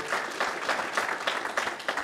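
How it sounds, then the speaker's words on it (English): A studio audience gives a short burst of steady applause during a motorsport interview, a brisk even patter of many hands lasting about two seconds with no talking over it. "Big round of applause for that."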